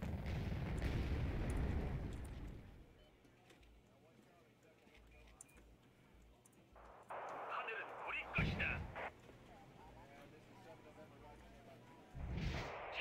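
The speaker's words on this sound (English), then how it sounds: "Oh, Some missiles came in." Incoming missiles exploding in the Wargame: Red Dragon real-time strategy game: a loud low rumbling blast at the start, then several sharper bursts and booms around the middle and end over a steady game-sound bed.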